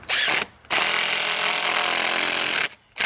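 A power drill driving self-tapping roofing screws into wood on a DIY wisteria trellis, a brief burst, a pause, then a long steady whirring run, loud and close, ending abruptly.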